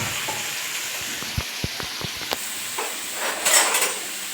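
Onion, tomato and curry leaves sautéing in a pan, a steady close sizzle with a few sharp spatula taps and a brief louder hiss near the end, no voices.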